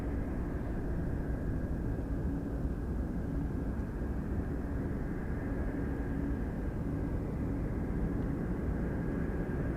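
Large freighter jet arriving at Anchorage airport, a steady, loud broadband engine roar with a faint whine, continuous for the whole stretch with no talk.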